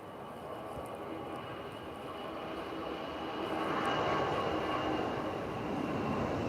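An airplane accelerates down the runway for takeoff at Lisbon airport, a steady, broad engine roar that swells slightly louder partway through and holds, with no talking over it.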